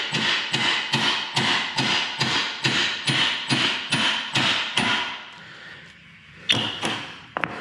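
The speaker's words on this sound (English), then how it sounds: "Gentle taps, we don't need to deform the steel." A hammer gives gentle, close taps on a steel pinion nut of a GM 10 bolt rear axle, with a rag protecting the part. About a dozen evenly spaced thuds run in steady rhythm, then a brief pause and one more tap.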